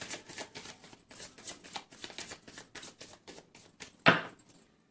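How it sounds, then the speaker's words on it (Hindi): Tarot cards shuffled by hand in a rapid run of soft riffling flutters and slaps, ending in one sharper snap of the deck, close up and alone. "this is my last shuffle"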